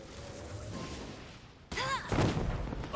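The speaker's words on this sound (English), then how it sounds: "Wait, I was blowing up barrels," Barrels exploding in Genshin Impact: after quiet game ambience with low rumbles, a sudden sharp blast bursts in, followed by crackling sparkly debris and a further heavy boom, with some sound effects layered over.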